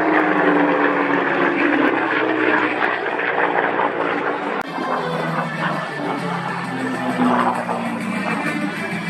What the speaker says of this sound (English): The North American P-51 Mustang.